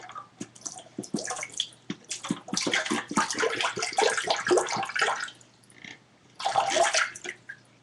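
Water pours and splashes out of a cup over a sink during a simple index-card science experiment, a run of irregular close splashes and drips that pauses briefly, then returns in a final burst.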